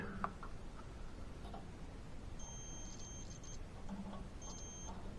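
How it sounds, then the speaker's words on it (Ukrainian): Faint high-pitched beeping from a tester device probing a microwave oven magnetron, sounding in two short bursts over a quiet background hiss. "Ось прибор у нас пищить."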